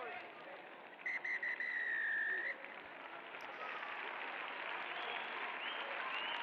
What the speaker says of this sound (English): blows his whistle